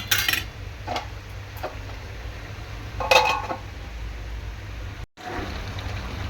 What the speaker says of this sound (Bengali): একটুখানি খুন্তি দিয়ে নাড়াচাড়া করার পর আবারও ঢাকা বন্ধ করে দেবো।